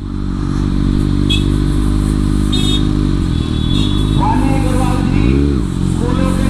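Kawasaki Ninja ZX6R motorcycle engine on a test ride, a steady loud drone throughout with a brief revving swell near the end, heard close up against wind rush.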